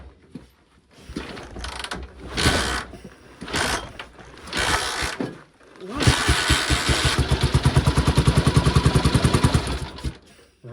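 A Dnepr motorcycle is kick-started in frost: several sputtering cranks and coughs, then the engine catches into a loud, rapid, pulsing idle close by.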